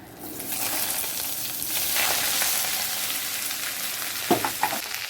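Chopped greens dropped into hot oil with dried red chillies and panch phoron, giving a loud, steady sizzle that swells after the first second, then a few sharp stirring clinks near the end.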